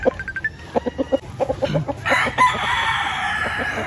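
A series of rapid clucks from a Black Australorp rooster builds into a loud, drawn-out crow nearby, with no talking.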